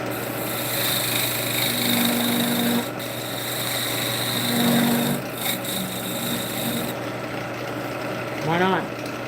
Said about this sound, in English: We're going to cut a recess in here for the lid.